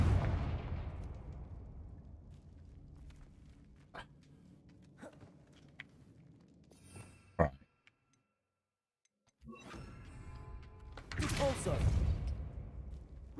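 Confringo blasting spells fired in Hogwarts Legacy, sharp bursts and clicks at intervals with a loud blast around the middle, a short silence, then a long roaring burst at the end.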